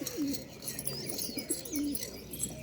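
Pet pigeons cooing nearby in a few soft, rolling calls with short gaps, a little chirping and faint background hum, no voices.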